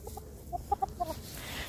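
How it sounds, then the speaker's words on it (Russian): A white rooster gives a short run of four or five soft clucks, close by, over quiet outdoor background noise on grass in February sunshine. "Счастливый петушок гуляет по зеленой травке в феврале под ярким зимне-весенним солнышком"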